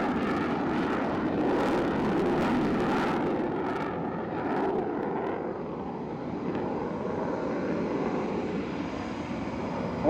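A Ukrainian Su-27 Flanker fighter jet flies at the RIAT airshow, its loud, roaring engines rumbling and crackling overhead for several seconds before settling into a steadier, slightly fading roar, with no voices.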